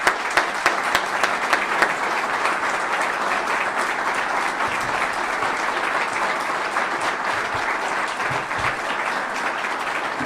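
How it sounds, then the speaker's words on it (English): A crowd at Wake Forest's welcome event for football coach Jake Dickert applauds the current football players, a few sharp claps opening into steady, full applause lasting throughout. "I want to give these guys a round of applause."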